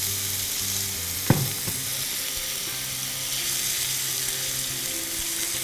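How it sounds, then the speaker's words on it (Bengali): Carrots and other vegetables frying in oil for spicy semai, a steady close sizzle that runs throughout, with a sharp clack of a utensil against the pan near the start. "আমি বাকি কাজটা করব, সেটা হচ্ছে ভেজিটেবলসগুলো ভাজবো।"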